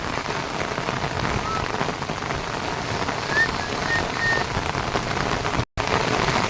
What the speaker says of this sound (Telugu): ఫుల్ అంటే ఫుల్ వాన పడుతుంది.